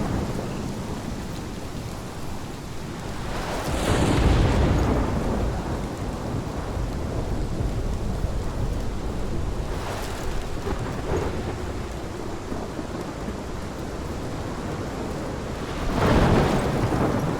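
A thunderstorm in the video game Life is Strange brings steady heavy rain on surfaces, broken by three loud rumbling thunderclaps spaced apart, with no voices.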